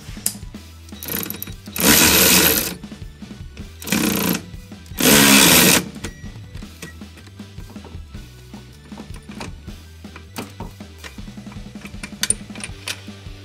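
Impact gun fitting Jass Performance brake parts on a Mazda MX-5 NB Miata, three loud rattling bursts of about a second each in a garage, followed by lighter clanks and tool handling.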